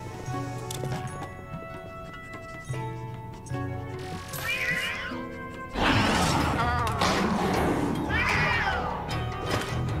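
A cat in Luigi's Mansion 3 meows repeatedly in rising and falling cries over spooky game music, joined midway by a louder, busier burst of game sound.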